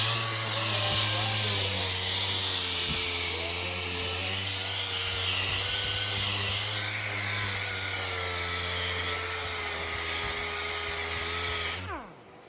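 A power tool sands down a rooster, letting out a loud, steady high-pitched whine that holds for about twelve seconds before winding down and cutting off.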